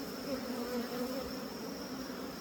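Honeybees buzz in a dense, steady drone close by as a hive is opened for inspection, a continuous insect hum with no voices over it.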